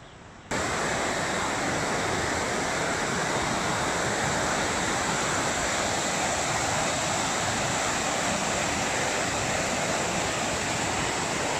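A river and its waterfalls rush through the Lauterbrunnen valley near Interlaken, Switzerland, as a loud, steady, broadband roar that starts abruptly and continues unbroken, with no talking.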